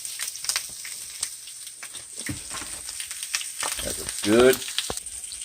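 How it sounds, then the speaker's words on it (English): Onions sauté in hot oil in a pan, cooking for a bacon-wrapped cheesesteak meatloaf, giving a steady close sizzle and crackle throughout, briefly under a short spoken remark. "And then we're going to saute them in some oil"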